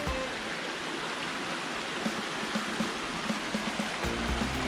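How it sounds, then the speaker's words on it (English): Water gushing out of a fault line at Fort Richardson State Park during high water: a continuous broadband rushing and splashing flow, steady and moderately loud, heard alone without speech. "It's just amazing how much water is coming out of that fault line."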